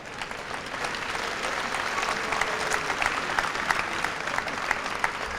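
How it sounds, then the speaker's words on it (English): Steady, dense applause from an audience at a 1993 high school senior academic recognition ceremony, sustained clapping filling the room without pause or voices. "Please give him a round of applause"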